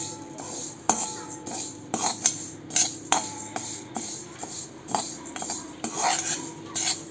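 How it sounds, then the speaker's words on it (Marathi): Whole green moong dal with skins, about a third of a cup, is dry-roasted in a pan while a metal utensil scrapes and clinks against it in irregular, fairly quiet strokes. "आता आपण 1/3 कप मुगाची डाळ भाजून घेऊया."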